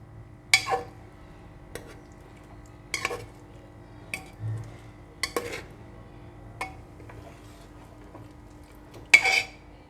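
A spoon stirs stuffed drumstick curry in a pan, giving sparse, separate metallic clinks and scrapes at irregular intervals over a quiet kitchen hum, close by and without speech.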